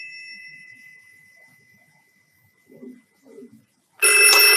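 A telephone rings loudly and close after a quiet stretch with faint voices, its bright, sustained bell starting abruptly and filling the end of the moment.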